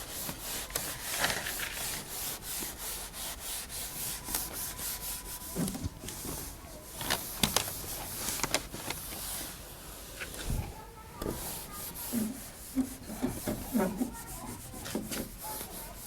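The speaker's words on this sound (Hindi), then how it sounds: "मैं इसको रब कर देता हूं" A teacher wipes a writing board clean during a maths lesson on set cardinality, giving repeated scraping rub strokes in bursts over about sixteen seconds, close and moderately loud, with brief speech near the end.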